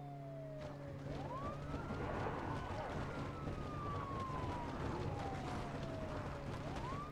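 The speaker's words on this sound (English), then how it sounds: "My sirens, they're broken!" A police car siren in the video game Project Zomboid wails in long rising and falling sweeps over a steady engine drone, loud and continuous throughout.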